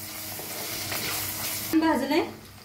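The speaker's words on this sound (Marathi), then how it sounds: "आता बघा ह्याच्यात टाकूया अद्रक लसूणचं पेस्ट, त्याला बी मिक्स करून भाजून घेऊया।" Ginger garlic paste fries with sprouts in a pan, a close, steady sizzle with stirring and scraping sounds that grow stronger toward the end.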